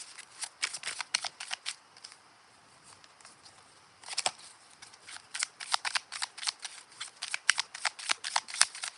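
Tarot cards being shuffled and drawn, giving crisp flicking and snapping bursts in quick runs, with a short quieter pause in the middle before the brisk card handling resumes, close and fairly faint.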